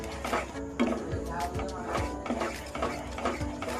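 Sago payesh (sabu kheer) being stirred in a pot, with a steady rhythm of spoon scrapes and soft knocks against the metal. A voice talks over the stirring.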